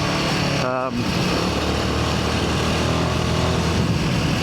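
A Royal Enfield Himalayan 450 single-cylinder motorcycle engine with stock exhaust runs steadily at close range, a constant rough drone with a brief dip at one point, as someone talks over it.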